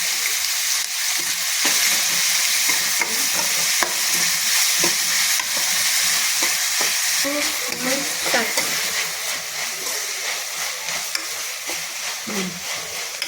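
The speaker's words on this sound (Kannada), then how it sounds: "ಸ್ವಲ್ಪ ಈರುಳ್ಳಿ ಫ್ರೈ ಆಗೋಕ್ಕೆ ಉಪ್ಪು ಹಾಕಿ, ಉಪ್ಪು ಹಾಕಿದ್ರೆ ಬೇಗ ಫ್ರೈ ಆಗುತ್ತೆ." Onions frying in a pan with salt added, a steady close sizzle with occasional stirring scrapes running the whole time, no talk.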